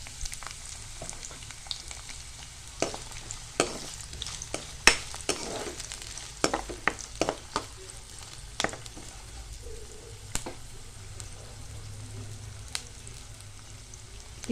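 Onion pieces sizzle steadily in hot oil in a pan with bay leaves and star anise, a continuous close frying hiss broken by occasional stirring clicks and spatters.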